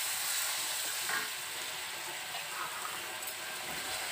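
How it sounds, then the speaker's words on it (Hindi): Ginger and green chilli sizzle steadily in hot oil for khichdi, a continuous close frying hiss with small crackles and no voices. "अच्छे से अदरक और मिर्ची को फ्राई कर लेंगे।"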